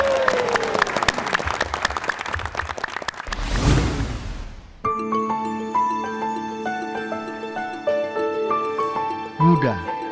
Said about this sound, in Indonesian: Kasih tepuk tangan dulu dong Bapak Ibu.